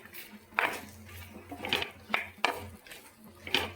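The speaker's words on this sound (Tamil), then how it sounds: "இதை நல்லா வதக்கலாம்." Okra being sautéed in a pan for sambar, with a soft background sizzle under a few distinct scraping and clinking strokes of a spoon against the pan at irregular intervals, and no talking.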